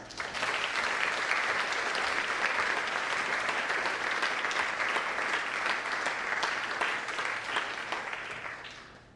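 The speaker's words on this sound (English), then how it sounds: "You can give them a round of applause." An audience at a school honors night applauds steadily for several seconds, a dense wash of clapping that thins out and fades near the end.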